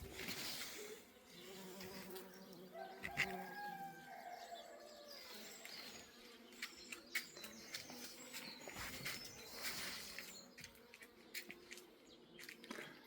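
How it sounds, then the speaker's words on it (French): A swarm of bees buzzes around a flowering catalpa tree in a morning garden, a dense continuous hum like inside a hive, steady throughout with faint bird calls in the background. "Ah, quel bourdonnement! On a l'impression d'être dans une ruche, je vous assure."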